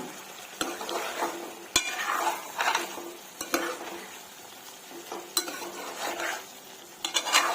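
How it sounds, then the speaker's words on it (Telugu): Ginger garlic paste fries in a pan as a utensil stirs it, with soft scraping and sizzling broken by several sharp metallic clinks against the pan at irregular intervals; no one speaks. "ఇప్పుడంతా కూడా ఒకసారి కలిపేసుకుందాము"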